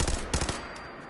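Rapid bursts of gunfire in Fallout 4 on survival difficulty, two quick clusters of close, loud shots in the first half second before tailing off into a fading echo.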